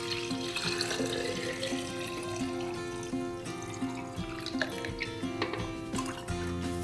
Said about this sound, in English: We're now gonna fill this with water.